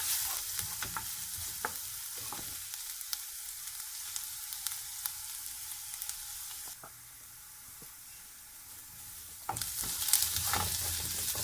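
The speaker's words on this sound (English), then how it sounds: "So I'm going to let them fry until they become light brown in color." Food pieces for beef kebabs frying in a pan until light brown, a steady close sizzle with occasional stirring clicks and scrapes, easing briefly before the crackle swells again near the end.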